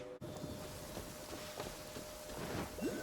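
Rain in a video game, a soft steady patter of rainfall with faint low rumbling beneath, quiet and even throughout with no voices.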